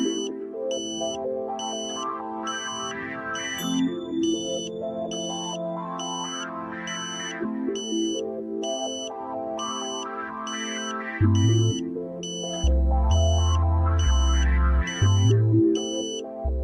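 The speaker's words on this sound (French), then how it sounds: "jusqu'à entendre la tonalité ambulance qui indique que la porteuse a été trouvée" Satellite dish pointing beeper emitting tones during alignment of a satellite internet antenna: a steady train of evenly spaced, pulsing electronic beeps throughout, with a musical tone pattern and a deeper booming section in the second half.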